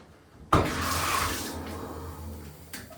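Water from a Sourog high-pressure detachable shower head bursts on suddenly after a brief quiet and sprays steadily at close range, a full hissing rush that holds for a few seconds before easing off.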